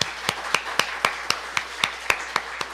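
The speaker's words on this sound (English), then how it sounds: "So let's give Laura a round of applause" Sparse, rhythmic hand clapping at a church service, roughly ten evenly spaced claps from one or a few people, moderately close with no voices.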